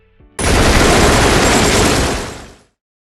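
Sustained burst of gunfire in a 1988 creature-feature film scene, a dense, loud roar of overlapping shots lasting about two seconds before cutting off abruptly.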